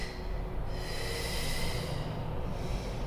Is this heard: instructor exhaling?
yes